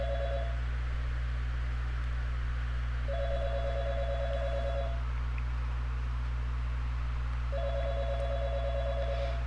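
A telephone in the video game YIIK rings in three evenly spaced electronic bursts over a steady low hum, with no voices.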